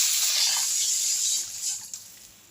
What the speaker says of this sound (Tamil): இப்போ ஒரு சொம்பு தண்ணி ஊற்றிக்கலாம்